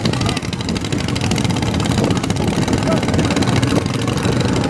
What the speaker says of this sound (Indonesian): Nampaknya sudah menyala 4 mesin sampan tersebut.